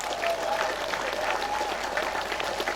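A congregation applauds during the inauguration of a new church building, a continuous wash of many hands clapping at moderate distance, with faint crowd murmur mixed in throughout.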